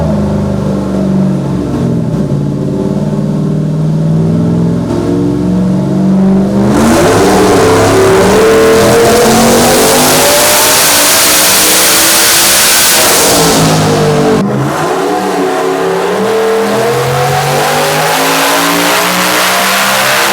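A turbocharged street car engine revs hard and loud up toward 8,200 RPM, its pitch climbing steadily, dropping back and then climbing again in a second sustained pull.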